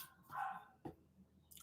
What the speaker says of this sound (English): All I hear is dogs barking.